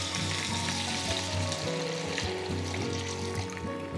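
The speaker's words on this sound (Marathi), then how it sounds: "आता यामध्ये पाणी घालायचं" Water goes into a pan of sizzling pumpkin, tomato and drumstick vegetables, a loud continuous hiss and crackle with a trickling pour mixed in, up close and alone.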